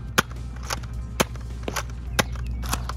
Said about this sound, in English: Now we're going to fire 6 shots off the Nerf Forknite 6SH.